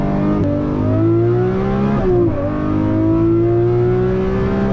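Lamborghini Murcielago LP670 SV with a 662 or 670 horsepower engine revving loudly and close by, a steady high-pitched roar whose pitch climbs, dips briefly, then rises again, with no other sound over it.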